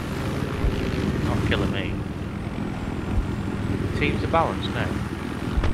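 A plane engine drones steadily through a Battlefield 3 match on the Kharg map, a continuous rumbling hum that sits under players chatting and calling out over it.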